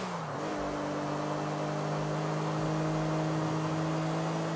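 Speeding car in the video game GTA 4, with a loud, steady engine drone and whine that rises slightly at the start and then holds at high speed throughout, with no talking.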